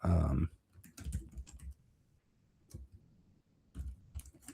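Bursts of fast keystrokes on a computer keyboard, close and clear, with short pauses between runs of typing and a brief loud noise at the start.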